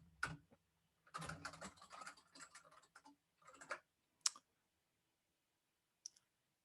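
Fingers mash a computer keyboard in fast, dense bursts of clicking keys, close and quiet, followed by a few isolated taps and pauses, with no talk.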